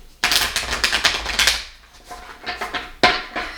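Rapid riffling tarot card shuffle up close, a dense flurry of crisp flicks followed by a pause, then shorter bursts of shuffling.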